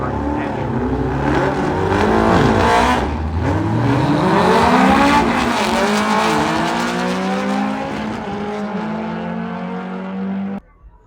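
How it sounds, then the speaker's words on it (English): VW drag racing cars accelerating hard at Las Vegas Motor Speedway, loud engine roars rising and falling in pitch as cars pass, with overlapping engines sustained for about ten seconds before cutting off abruptly. "We have VW drag racing happening today"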